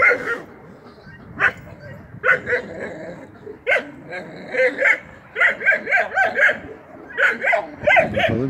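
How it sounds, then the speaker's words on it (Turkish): Several Kangal dogs bark in quick, uneven bursts, some yips and whines mixed in, fairly close by with a voice occasionally heard between barks. "Köpeklerin sesinden belli."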